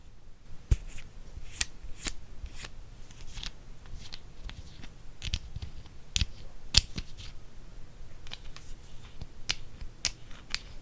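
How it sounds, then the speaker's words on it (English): Close, soft-spoken ASMR handling of a hair dye tube as it is opened and its foil end pierced: scattered sharp clicks, crinkles and taps spread irregularly over several seconds, with no talk. "Now I'm going to open up the tube number 1 and pierce the end, the foil end."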